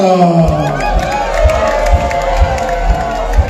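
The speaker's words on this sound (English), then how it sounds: "one more big round of applause for everyone who even competed" An audience at an art competition in San Francisco cheers and shouts for the finalists, a loud, close crowd roar with whoops and rhythmic thumps running through it.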